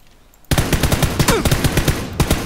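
Rapid automatic gunfire in the battle-royale shooter PUBG, a dense run of sharp close shots that bursts in after a brief quiet and keeps firing steadily for about two seconds.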